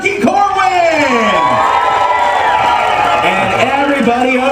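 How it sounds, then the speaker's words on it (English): A crowd split into cheering sections roars with loud shouts, whoops and high-pitched children's yells, a close, sustained wall of cheering that stays intense throughout. "let's have a big round of applause for Turkey Corwin!"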